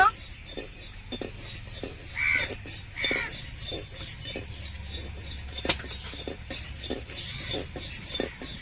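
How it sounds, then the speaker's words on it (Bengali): Paneer is cut with a knife, giving a steady run of light taps and clinks of the blade on a board or plate, with faint crow caws far off in the background. "পনিরটা কেটে নেব"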